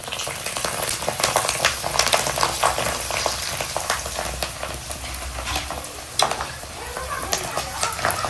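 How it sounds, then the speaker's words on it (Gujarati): Bhungla snack tubes fry in hot oil, giving a loud, continuous crackling sizzle with sharp bursts of bubbling close up, and no one speaks. "તો આપણે ભૂંગળા તળાવવા નાખ્યા છે."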